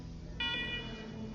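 An old computer terminal in the Wasteland 3 video game powers on, giving a short steady electronic beep tone partway through, over a low hum.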